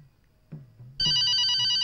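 A telephone starts ringing loudly with a continuous electronic bell tone after a few soft thumps and movement, the ring holding steady to the end.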